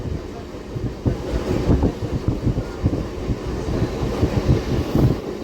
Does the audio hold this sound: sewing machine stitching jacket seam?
no